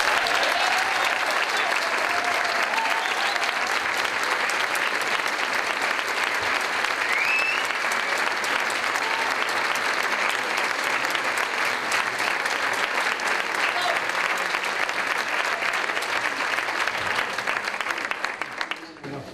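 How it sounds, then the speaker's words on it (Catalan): Long, loud, steady applause from a concert audience at a centenary celebration, sustained dense clapping throughout and tapering off at the very end, with some crowd murmur mixed in. "un molt fort aplaudiment per totes aquestes persones"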